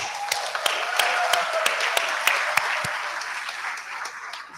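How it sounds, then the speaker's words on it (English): Applause from the audience at a hooding ceremony, a sustained crowd clapping with several sharp, distinct hand claps cutting through near the front, fading slightly toward the end. "So let's give them another round of applause."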